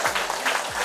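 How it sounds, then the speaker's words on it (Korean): Applause from an elderly audience at a seniors' college lecture in Chungcheong, a brief burst of dense clapping that stays steady and fairly close throughout. "그럼 박수 한번 쳐보세요."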